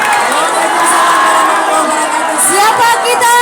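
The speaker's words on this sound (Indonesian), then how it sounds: "kita berikan tepuk tangan yang paling meriah untuk Bapak" Audience at an Islamic religious gathering in Indonesia applauding and cheering, a dense, steady roar of clapping and shouting voices that stays loud and continuous throughout.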